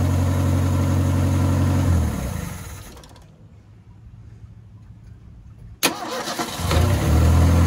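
A 1977 Ford Mustang II engine with a holed radiator and no coolant runs loudly at a steady idle, cuts off into near silence, then restarts with a sharp crank and settles back into a rumbling idle.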